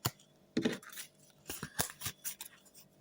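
A tarot card drawn from a deck of the erotic fantasy tarot gives a few soft, quick rustles and snaps of card stock in a quiet room.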